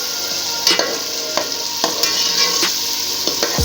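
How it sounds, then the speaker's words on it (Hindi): Cumin seeds frying in a pan for vegetable pulao, a steady sizzle broken by repeated scraping stirs of a spoon against the pan at roughly half-second intervals, close and loud. "5 मिनट तक आप इसको अच्छी तरह फ्राई कर लें।"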